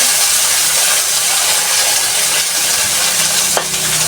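Food sautés in a hot pan with a continuous loud sizzle and hiss throughout, and one brief clink of a utensil near the end.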